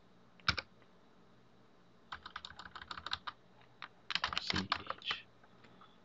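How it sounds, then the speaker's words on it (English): Close typing on a computer keyboard in short bursts of rapid key clicks, with a brief tap near the start and pauses of quiet between the bursts. "Sorry about the typing."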